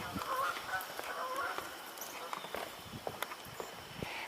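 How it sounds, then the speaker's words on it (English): Canada geese honk in a scattered series of calls as they fly over a building, moderately distant, mixed with footsteps and people talking. "I hear Canada geese"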